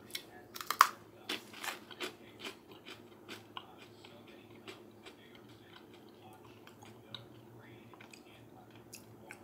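Crunchy freeze-dried cheesecake treat is chewed up close, a run of sharp crisp crunches that thin out to softer, quieter chewing.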